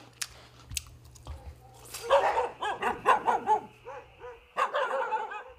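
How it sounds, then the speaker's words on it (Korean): Dogs bark repeatedly in sharp, high-pitched bursts, several voices overlapping nearby, with short pauses between volleys. "유난히 날카롭게 짖는 강아지들"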